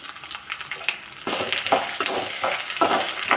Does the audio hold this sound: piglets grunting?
no